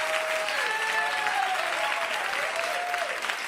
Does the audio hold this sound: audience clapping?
yes